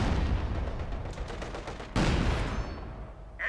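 Artillery bombardment in Company of Heroes 2, played with the Wikinger mod and Iron Will doctrine: heavy booming shell blasts roll and rumble, with a sharp new impact landing midway, loud and close, with no talking.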